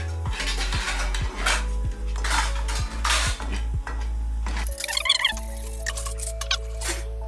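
Egg curry made with boiled eggs and coriander is stirred in a metal pan, with loud repeated clanks and scrapes of a spoon against the pan in an uneven rhythm, close up and with no voices.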